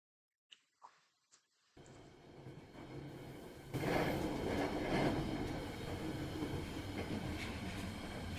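A train runs in SHRIFT with a steady rumbling clatter of wheels on rails that swells in after a few faint clicks and then rolls on continuously, loud and close.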